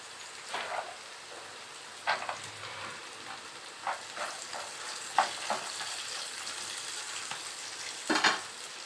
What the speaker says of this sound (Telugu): ఇప్పుడు కొంచెం పల్లీలు వేసుకుంటున్నాను.